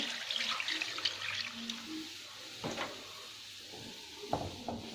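Cold milk, about a kilo, poured into a pan for béchamel, a soft steady liquid stream running under faint kitchen clatter, with a couple of brief knocks near the end.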